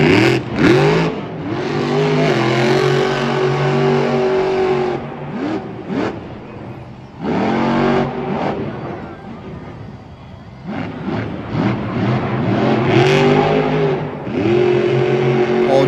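A Monster Jam monster truck engine refires and revs hard in a stadium at Anaheim. Loud, rising and falling roars repeat with brief drops in between, and an announcer's voice runs along underneath.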